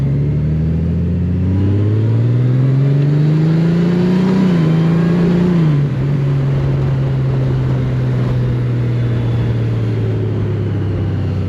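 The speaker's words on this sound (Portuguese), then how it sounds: "E estes 6 cilindros aqui a bufar" A Honda Goldwing's six-cylinder motorcycle engine runs close and loud, its steady hum climbing in pitch for a few seconds, dropping back abruptly, then settling into an even drone with no voices.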